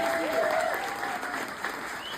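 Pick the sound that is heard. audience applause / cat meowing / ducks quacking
audience applause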